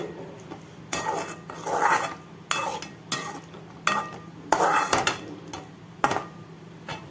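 A spatula stirs a chicken dish in a pan on a stove that has just been switched off, making a series of rhythmic scraping strokes in bursts of a second or so against the metal, near and clear.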